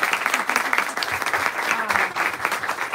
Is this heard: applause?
yes